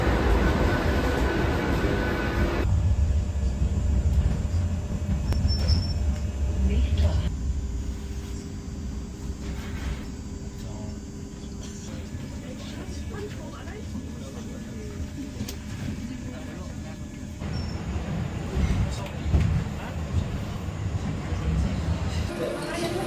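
Tram on line 66 through Bonn toward Bad Honnef, a steady low rumble and rattle of the moving carriage heard from inside, with passengers' voices.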